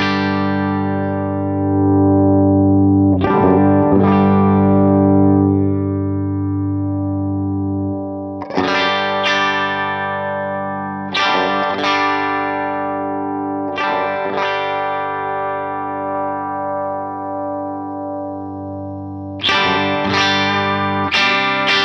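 Electric guitar through a UAFX Ruby '63 Top Boost amp emulation with its EQ controls, playing loud sustained chords with bright attacks, several strummed hits ringing out alone.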